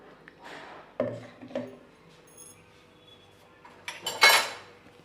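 Metal spoon scraping and pressing ground fruit and vegetable pulp through a strainer into a vessel for ABC halva, a few soft clinks and rubbing scrapes, then a brighter metallic scrape near the end.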